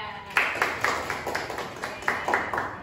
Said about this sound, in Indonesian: Baik, tepuk tangan buat Mbak Fisya.